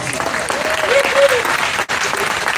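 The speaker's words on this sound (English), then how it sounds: "Give Canada a round of applause." Crowd applause fills a public gathering in Port Huron, a dense steady clapping from many hands with a brief dip near the end, and a voice rising faintly beneath it.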